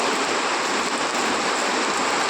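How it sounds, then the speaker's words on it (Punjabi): Dense, steady nighttime downpour of heavy monsoon rain in Mansa district, Punjab, a loud continuous hiss of drops hitting surfaces with no breaks and no voices. "ਦੇਖ ਸਕਦੇ ਹੋ ਪੂਰੀ ਜੋਰਾਂ ਦੀ ਬਰਸਾਤ ਹੈ"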